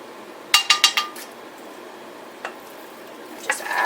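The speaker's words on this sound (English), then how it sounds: "I'm going to cook it with sesame oil. Just add that meat." Beef pieces dropped into a pan of hot sesame oil give a quick run of sharp clinks and spatters near the start, then a low steady sizzle with a few later clatters of utensils against the pan.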